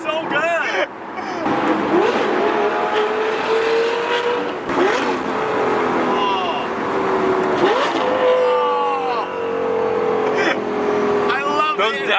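A straight-piped Lamborghini Gallardo Superleggera engine roars loudly up close, its pitch rising under acceleration and dropping with sharp rev-blipping downshifts, while people talk over it.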